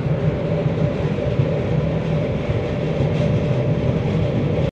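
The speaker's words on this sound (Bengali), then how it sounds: "ট্রেন এসে দাঁড়ালো তার যাত্রাপথের অন্যতম স্টেশন আন্ডারম্যাটে" Glacier Express train pulling into Andermatt station, a steady loud rumble of rail cars with low mechanical drone and broadband rolling noise throughout, no voices.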